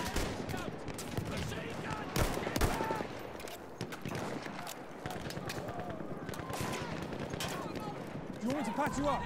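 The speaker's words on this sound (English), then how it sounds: "I hear gunshots, but I don't know where it's coming from." Rapid bursts of gunfire crackle through a busy Battlefield 1 game soundscape, with voices talking over the shooting throughout.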